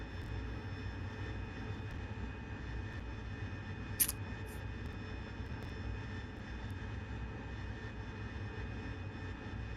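A Harrier jet flies overhead at night, giving a continuous, fairly distant broadband roar that holds steady throughout, broken only by one brief sharp click.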